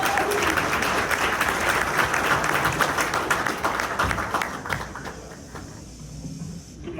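A full round of applause from a morning community-event audience greets a new local restaurant, dense steady clapping that holds loud for several seconds before thinning and tapering toward the end.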